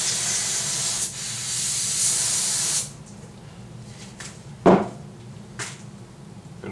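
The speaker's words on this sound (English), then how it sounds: "Fresh can of brake parts cleaner here." An aerosol can of brake parts cleaner sprays in a loud, close hiss for about three seconds and then stops, followed by a few quieter clanks and handling noises.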